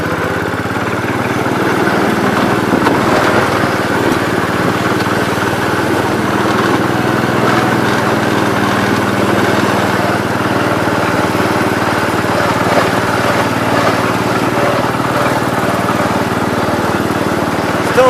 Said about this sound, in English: I do hear a little bit of a rod knock.